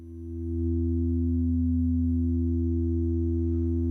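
A wavetable synthesizer sustains one steady, pure buzzing tone with strong harmonics; it fades in over the first half second, then holds level and unchanging.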